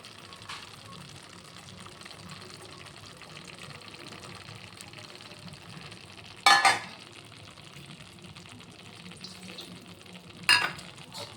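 Paneer fries in hot oil, a steady sizzling hiss running throughout, broken by two sudden louder bursts of spattering as pieces go in or are stirred.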